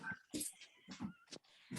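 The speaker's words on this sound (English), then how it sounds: "Oh, what a nice dog there. Wow. she's a black lab." A black Labrador gives several short, high whimpering yelps in quick bursts, close by and fairly quiet, with brief gaps between each whine.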